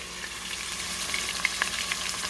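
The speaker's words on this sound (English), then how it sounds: "So I'm going to sear it in there." Large pieces of meat for birria tacos sear in a hot pan, giving a steady, close, dense sizzle with small spitting pops and no voices.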